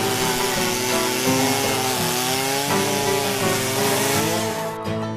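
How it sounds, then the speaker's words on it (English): Husqvarna chainsaw cutting through wood, a loud, steady buzzing drone with rising and falling engine pitch as the chain bites, running continuously close by with no voices. "Husqvarna odun makineleriyle odun kesme işini zevke dönüştürüyor."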